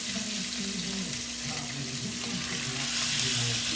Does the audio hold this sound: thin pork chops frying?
yes